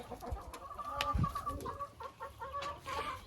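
Leghorn and Lohmann Sandy hens clucking in a coop, soft overlapping clucks and short calls from several birds, fairly quiet and close, with faint rustling and no speech.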